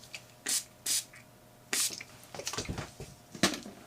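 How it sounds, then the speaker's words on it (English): A spray bottle fires several short hissing bursts, three spaced apart then a quicker cluster, close and crisp with faint handling noise between. "so I'm just going to give it a quick spray"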